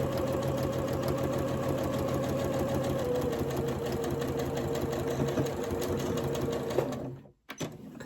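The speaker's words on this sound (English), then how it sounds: "start sewing from that folded edge" Sewing machine stitching fabric for a small sensory fidget toy, a steady close motor whir with rapid needle clatter lasting about seven seconds, then stopping abruptly, followed by a brief handling clunk.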